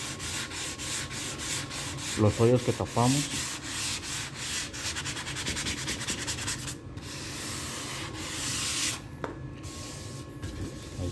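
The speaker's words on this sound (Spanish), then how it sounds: "ahorita le vamos a dar su pequeña lijada, una lijadita aquí donde están" Steady hand sanding on a wood cabinet, a continuous scratchy rubbing with rhythmic back-and-forth strokes, close up, while someone speaks briefly in Spanish over it.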